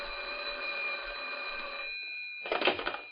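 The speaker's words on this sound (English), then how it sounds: "Then one night, Jack Swayze called me on the phone." An old-time radio sound effect of a telephone bell ringing: one long continuous electric ring for about two seconds, then a short rattling clatter as the receiver is picked up.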